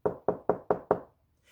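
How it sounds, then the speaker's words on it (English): Five loud, evenly spaced knocks strike a wooden door in quick succession, each a sharp hollow thud, followed by a short silence. "Suddenly, there was a loud knock on the door."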